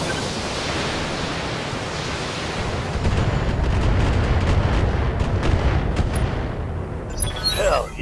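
Mech alpha strike in the BattleTech video game, a sustained roar of weapons fire that swells and rumbles for several seconds, with a spoken voice over it near the end.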